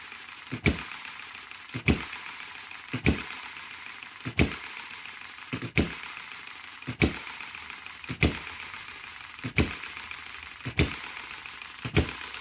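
A small Chinese-made hit and miss model engine, its governor springs changed, runs slowly with sharp regular firing beats about every 1.2 seconds, each followed by a steady mechanical whirr, loud and close with no talking.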